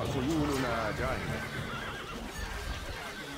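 A horse neighs in the medieval strategy game Stronghold: Crusader, a loud whinny near the start that trails off, followed by hoofbeats and battle ambience while game voices speak over it.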